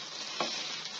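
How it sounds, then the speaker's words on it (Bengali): Fenugreek greens frying in a pan, a soft steady sizzle with one brief stir or scrape partway through. "ভাজি হচ্ছে।"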